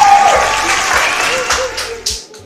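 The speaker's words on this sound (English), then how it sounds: "Please, we should give her a resounding round of applause." Applause from an audience at a balloon-popping elimination game show, a steady wash of clapping that fades toward the end, with brief voices mixed in.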